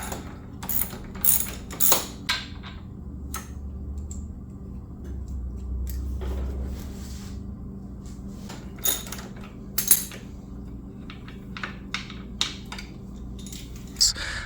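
A wrench backs out 13mm nuts on the battery tray of a Ryobi electric riding mower. Clicking ratchet and metallic clinks come in short, irregular bursts, with handling knocks between them and no voices.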